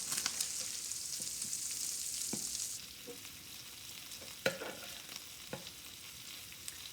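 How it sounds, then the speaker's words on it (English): Carnitas pork, already slow-cooked in a crock pot, frying and browning in a pan with a steady hiss of sizzling fat, broken by a few small pops and stirring clatters. "It's already getting some crisp browning action happening."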